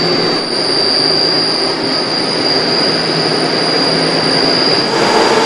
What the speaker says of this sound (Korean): 도시 전체가 잠든 시간, 조용한 도심 사이를 가르며 운행이 멈춘 선로 위를 달립니다.